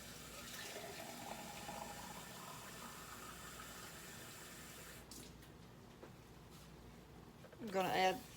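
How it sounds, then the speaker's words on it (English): Water pours into a cooking pot of cube steak with beef bouillon, a steady moderate splashing rush that stops abruptly partway, followed by quieter room sound and a brief clatter at the end. "I'm going to add about 2, maybe 3 cups of water."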